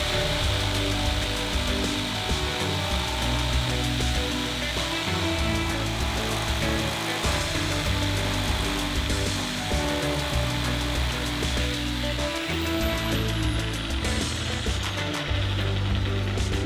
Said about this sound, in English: And finally, time to jigsaw out.